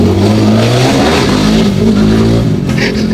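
A car engine revs loudly at the Mandalika race circuit, a close, continuous roar whose pitch swells and falls with the throttle.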